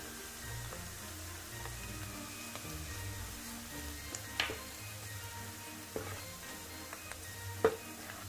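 Garlic frying in a pan gives a faint, even sizzle with occasional small pops and clicks, all fairly quiet and unbroken by talk.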